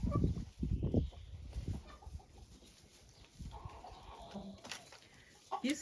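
Ameraucana chickens dust-bathing in sand cluck in short low bursts, strongest at first, then quieter scattered clucks and rustling, close by.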